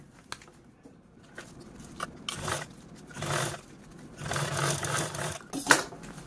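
Domestic sewing machine top-stitching a garment seam, a quiet intermittent whirring run in short bursts with pauses between, fairly close and alone.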